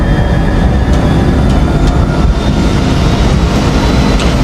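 An Airbus A320 on its takeoff roll gives a loud, continuous roar with deep rumble, heard from inside and steady throughout, with faint clunks now and then.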